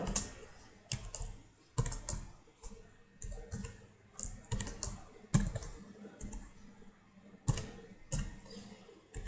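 Someone types Java code on a computer keyboard. The clicks come in irregular bursts of close, crisp keystrokes, with brief pauses between them.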